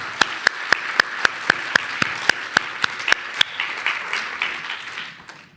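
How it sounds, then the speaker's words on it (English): Audience at a medical symposium claps in a brief burst of spaced, sharp hand claps that quickly blur into a fuller round of applause, then fade out over a few seconds. "I think that deserves applause."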